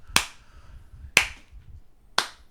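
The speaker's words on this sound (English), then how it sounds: "If you turn the captions on, it says rhythmic clapping." Three sharp, separate claps or snaps, about one second apart, each clear and close with a quick decay and near silence between them, from a 1992 WWF wrestling match broadcast.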